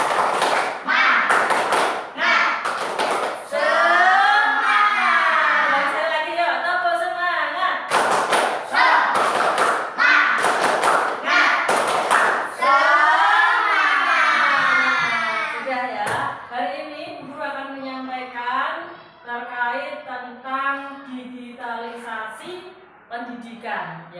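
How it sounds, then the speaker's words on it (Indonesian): A class of primary pupils claps out a rhythmic school spirit clap in a classroom, sharp clap bursts in a pattern mixed with children chanting and an adult voice, loud and close. "Tepuk semangat."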